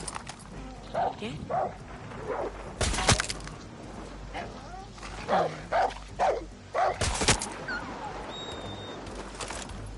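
A companion dog in Far Cry 6 barks in short clustered bursts, a few yips at a time with pauses between, alongside sharp cracks and someone talking.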